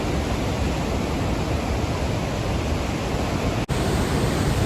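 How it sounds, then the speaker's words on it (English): The Upper Falls in Yellowstone's Grand Canyon roar loud and unbroken, a dense wall of rushing water close by, with only a brief dropout near the end. "look at the roaring water behind me"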